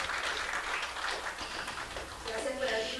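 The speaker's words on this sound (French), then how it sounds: "je vous demande de faire un applaudissement pour le ministère de l'Éducation" An audience at a regional education meeting in Antigua gives a round of applause for the Ministry of Education, a dense, steady wash of clapping with voices mixed in.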